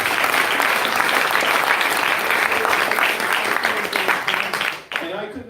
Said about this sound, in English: let's give Lila a massive round of applause